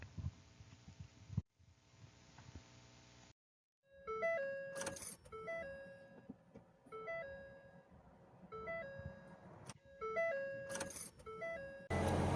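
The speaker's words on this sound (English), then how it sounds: "so we can turn on our car, and let's see what happened" A 2011 Ford Fusion powers up after its battery post connection is repaired, producing a low electrical hum and repeated electronic chime tones from inside the cabin, with brief pauses between bursts and no talking.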